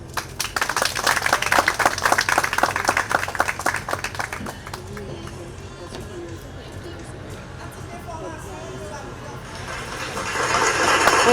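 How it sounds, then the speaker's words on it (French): Parents at a children's graduation ceremony clap loudly and rapidly for about four seconds, then the room settles into murmuring voices before the clapping rises again near the end. "Et les parents, vous devez applaudir."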